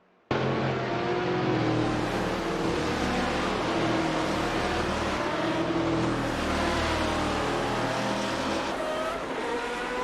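GTR race cars from a video game racing at Interlagos, a dense continuous roar of several engines at high revs that starts abruptly and holds steady, loud and close throughout with no talk.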